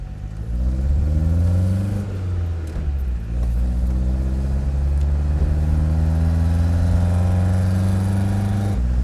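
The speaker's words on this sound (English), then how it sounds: "I'm now in 3rd gear and I'm flooring the car and I'm doing not even 50 kph." A 1989 Renault Espace engine strains at full throttle in third gear, a steady loud mid-pitched drone whose harmonics climb slowly, with a brief dip near the middle and no talk over it.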